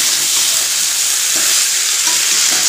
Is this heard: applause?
no